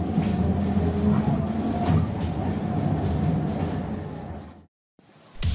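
Dessau tram rolling along the track, a loud rumbling ride with rhythmic wheel clatter and rail squeal, cutting off abruptly near the end before noise returns.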